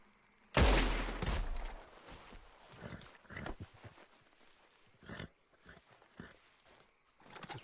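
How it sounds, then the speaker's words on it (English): A single loud gunshot cracks at a rope in Red Dead Redemption 2, followed by a decaying tail, then soft scattered footsteps and faint rustling ambience. "So I'm gonna shoot the rope."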